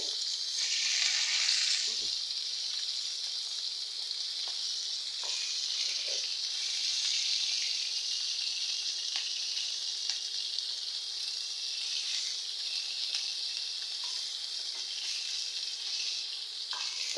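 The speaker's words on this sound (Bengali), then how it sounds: "এখন রান্নার জন্য মাছগুলো মশলা মাখায় রাখছিলাম ওগুলো ভেজে নিচ্ছি" Spice-coated fish frying in a pan, giving a steady, dense sizzle that holds for the whole stretch with small pops and crackles scattered through it and no voices.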